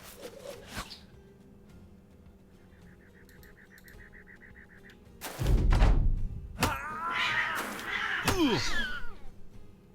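A house cat in Battle Brothers lets out drawn-out yowling meows and caterwauls near the end, after thumps and quiet game ambience with a faint beeping earlier on.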